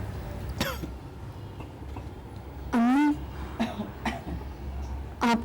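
A woman ill with tuberculosis coughs in a quiet room, a few sharp, separate, close hacks spaced apart over a low background hum.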